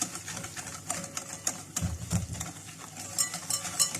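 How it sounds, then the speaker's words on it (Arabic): Ghee and half a cup of sugar are stirred by hand in a bowl, giving faint, close, repeated scraping and clicking strokes in an irregular rhythm. "هقلب كده"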